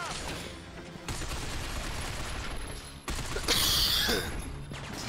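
Gunfire in the video game Binary Domain, dense bursts of rapid shots with crashing impacts and a louder blast near the end, continuous and close throughout.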